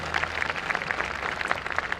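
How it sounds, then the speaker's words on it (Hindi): Audience applause for children at a school annual function, a steady wash of many hands clapping together, fairly loud and continuous. "तालियां दीजिए बच्चों"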